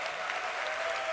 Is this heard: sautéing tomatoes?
no